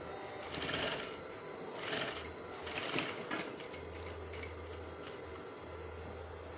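A sewing machine stitches a sleeve placket on a top with a bishop collar, giving a quiet, steady run of rapid mechanical ticking in short bursts with a low hum underneath.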